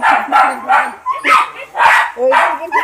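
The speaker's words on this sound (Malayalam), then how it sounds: "ഇവിടെ ആൾക്ക് ഇങ്ങനെ കുറച്ച് രണ്ട് മൂന്ന് നായ്ക്കളുണ്ട് ആ നാടൻ നായ്ക്കളാണ്" Several Indian native dogs bark close by in a quick series of sharp, loud woofs, five or six bursts with brief pauses between them.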